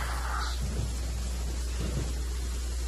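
A lightning strike and thunder in the video game Genshin Impact, heard as a brief crackling burst at the start followed by a steady rain-like hiss and low rumbles.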